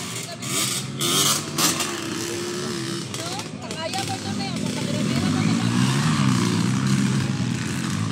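Motorcycle engines at a drag race drone and rev, easing off as the bikes slow, heard mid-distance under excited crowd chatter and commentary throughout.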